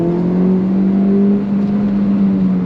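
Steady, loud engine drone from inside a 2018 Ford Fiesta ST as it accelerates toward 3,000 RPM in a low gear, a sustained hum that holds a level pitch for under three seconds, with no talking.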